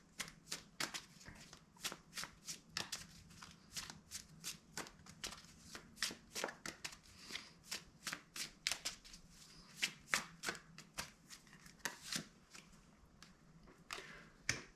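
Tarot cards are shuffled in a steady run of crisp riffling snaps, close and fairly quiet, repeating roughly every half second over a low background hum.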